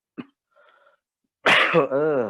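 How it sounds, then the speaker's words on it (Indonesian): A single short cough bursts out near the start, followed by a brief faint noise, then a voice begins speaking close by. "Batuk ya."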